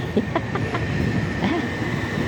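A train in London rumbles past with a steady roar and faint rhythmic rail clatter, fairly loud and continuous.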